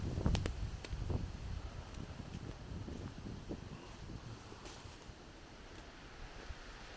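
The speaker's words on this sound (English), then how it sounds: "The wind is blowing" Hurricane Fiona wind at Holland Cove, Prince Edward Island, a faint, steady rushing roar with low gusty buffeting and a few scattered knocks, continuous throughout with no speech.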